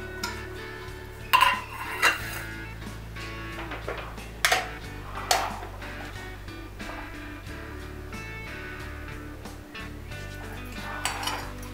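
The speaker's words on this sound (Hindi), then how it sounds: "तो इसको मैं जिंजर गार्लिक से मैरिनेट करूंगी, जिंजर गार्लिक और सॉल्ट" Kitchen clatter while boneless fish fillet is marinated with ginger, garlic and salt: sharp clinks of utensils against a bowl come in irregular bursts over a low steady background hum.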